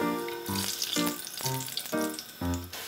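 Vegetables for Sicilian caponata deep-fry in sunflower seed oil, a loud continuous crackling sizzle with bursts of bubbling every half second or so as pieces are moved through the hot oil.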